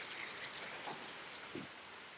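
Steady rain falling outdoors, a soft even patter with a few scattered louder drips and splashes, faint and unbroken with no voices.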